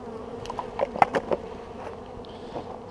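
Honey bees buzz steadily at an opened hive during a spring inspection, a close, continuous insect drone with a few louder passes as individual bees fly near.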